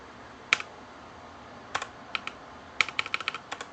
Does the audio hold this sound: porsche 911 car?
no